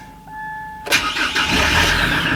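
An old, rusty car's engine cranks briefly and then catches, settling into a loud, rough idle up close; a faint tone sounds beforehand.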